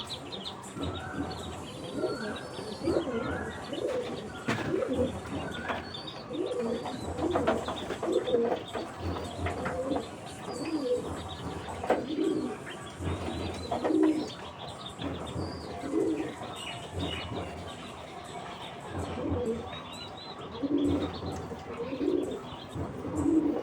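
Pigeons coo repeatedly nearby, soft throaty calls overlapping in an irregular rhythm, with occasional chirps and rustling mixed in.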